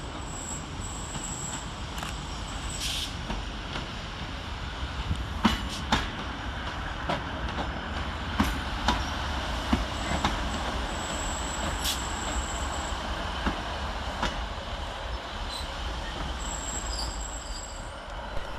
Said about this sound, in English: arriving to terminate 7 minutes late with a Northern service off of Lancaster